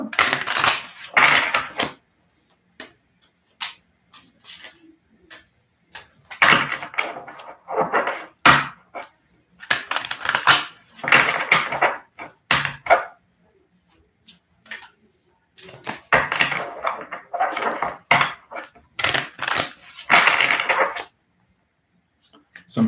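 A deck of tarot cards is shuffled in bursts of riffling and crisp flapping, with pauses of near silence between the loud, close bouts.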